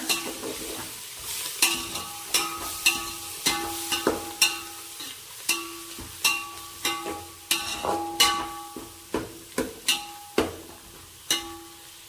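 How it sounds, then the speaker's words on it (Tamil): Coriander leaves sauté in a pan for chicken dum biryani under a quiet constant sizzle, with a spoon stirring and scraping in rhythmic strokes, each stroke a short clatter, close and clear. "அரை கைப்பிடி மல்லி சேர்த்துக்கோங்க. நல்லா வதக்கி விடுங்க."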